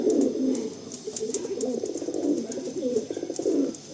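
Top-quality domestic pigeons, a breeding male and female pair at a loft in Behala, coo in a steady, close, rolling stream of low throaty calls that carries on without pause and without human talk.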